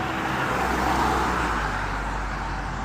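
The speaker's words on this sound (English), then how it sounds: "Sorry for the noise, by the way, if these cars are fucking up the audio." Steady traffic rumbles along a road beside a hydroelectric dam and bridge, a continuous low roar of passing cars heard from nearby outdoors, fairly quiet overall with no talking.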